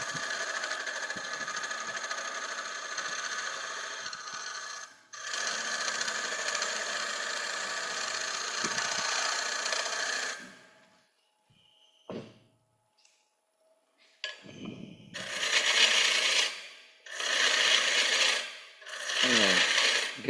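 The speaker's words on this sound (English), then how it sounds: "I'm just going to cut two little tenons, or one main tenon to sit in my chuck" Wood lathe turning a bowl blank while a tenon is cut for the chuck, long bursts of steady whirring with scraping tool contact, then a quiet pause with small clicks before shorter on-off bursts of cutting resume.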